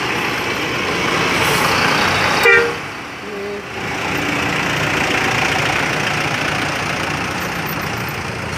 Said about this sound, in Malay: Ini bus Grand Panorama ya.